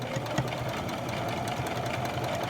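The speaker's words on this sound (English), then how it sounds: "I'm not pushing and I'm not pulling. I'm letting the machine do it." A Brother XL 3750 sewing machine stitches fabric in a steady, fast mechanical whir with a rapid needle rhythm, close and continuous throughout, with no voices.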